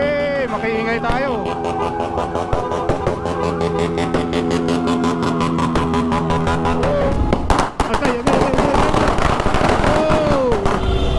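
New Year's Eve street noise near Binondo Bridge in Manila, with a long rapid string of firecracker pops and bangs under loud crowd babble and revving motorbike engines, then heavier irregular blasts toward the end.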